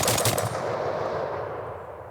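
Genesis Arms shotgun fitted with a muzzle brake firing outdoors: a loud blast at the start, with a quick follow-up crack, then a long rumbling echo that slowly fades, no voices.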